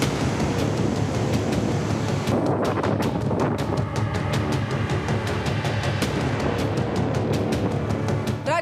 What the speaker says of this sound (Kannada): ಕೃಷ್ಣಾ ನದಿಗೆ ಅಪಾರ ಪ್ರಮಾಣದಲ್ಲಿ ನೀರು ಹರಿದು ಬರ್ತಿದೆ